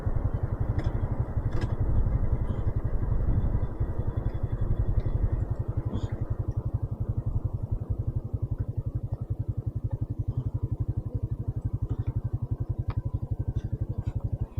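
A 250cc Chinese-brand motorbike engine holds a steady, pulsing idle, close and moderately loud, with a rhythmic low throb and faint clicks above it; nobody speaks.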